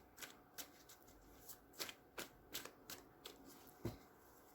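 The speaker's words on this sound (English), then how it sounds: "One more shuffle." A deck of tarot cards being shuffled in quick riffling bursts, about a dozen crisp snaps spaced unevenly, close and fairly quiet.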